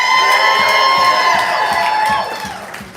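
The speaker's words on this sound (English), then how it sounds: "And make some noise for your feature tonight," A live poetry-night audience cheers and whoops for the featured poet, a loud, dense crowd roar with shouts that holds steady, then tapers off near the end.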